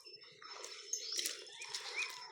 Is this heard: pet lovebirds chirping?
yes